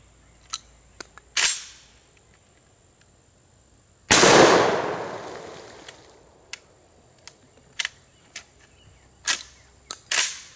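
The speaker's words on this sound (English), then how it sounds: "we're out today at our secret Bayou test fire location with the SPAS 12" A SPAS 12 shotgun test fired outdoors at a bayou, one loud, close blast with a long decaying rumble, surrounded by sharper, smaller snaps and clicks of the gun being handled.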